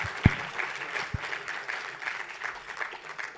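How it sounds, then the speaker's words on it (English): An audience at a conference session claps for two featured speakers: a steady wash of applause with a few sharper individual claps standing out near the start, sustained at moderate loudness throughout. "Can we have another round of applause for Jim Grant and Jim Chanos?"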